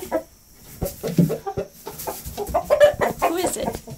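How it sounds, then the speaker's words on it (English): Several roosters in a backyard flock clucking and squawking in quick, irregular bursts, fairly close, with people talking faintly in the background. "we have too many roosters"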